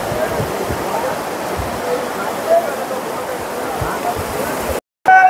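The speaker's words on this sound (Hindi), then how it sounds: "इस तरफ को भागीरथी नदी और इस साइड पे अलकनंदा नदी, तो दोनों का संगम हो रहा है" Two Himalayan rivers, the Bhagirathi and the Alaknanda, rush together at their confluence at Devprayag in Uttarakhand, a steady broadband roar of turbulent water that holds unbroken for nearly five seconds, then cuts out briefly before a short loud burst.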